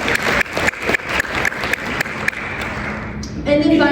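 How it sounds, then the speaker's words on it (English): Sparse applause at an Arkansas Women in Ag gathering, a handful of distinct claps in a loose rhythm that fades out after a few seconds before a voice starts talking. "let's give Brooklyn a round of applause"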